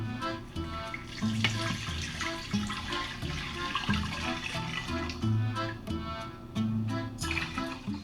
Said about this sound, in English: Once the anchovies have melted, we're going to put in the broth.